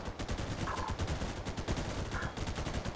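Computer-controlled characters in the game Garry's Mod fire guns in rapid, crackling bursts, a dense run of sharp shots with no pause across the stretch.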